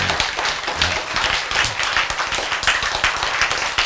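Audience applause at a Korean lecture on genes, creation and love: dense, steady clapping from a crowd filling the whole stretch, loud and close with no talk over it.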